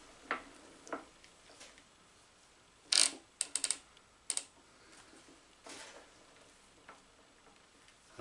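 The cross feed on an Atlas 7B metal shaper gives a few sharp, sparse metallic clicks and ratchet ticks, close and fairly quiet, with no talk.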